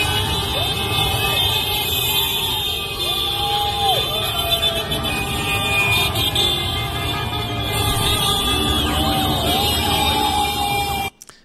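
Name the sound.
motorcycles passing by nonstop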